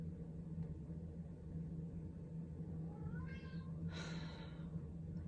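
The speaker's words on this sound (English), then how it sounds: "Do you have to meow right now?" A pet cat named Fatty meows indoors, two rising and falling calls near the end, close to the microphone over a steady low room hum.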